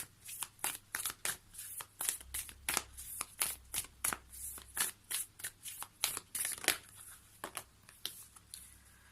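Tarot cards being shuffled and drawn, a rapid run of crisp riffling and snapping card sounds repeating steadily throughout, close and fairly quiet with no voice over them.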